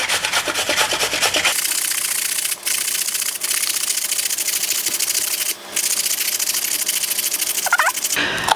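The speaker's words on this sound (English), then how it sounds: "Now, we just grate a couple of carrots." Carrots being grated by hand, a loud close rasping scrape repeating in steady strokes with brief pauses between passes.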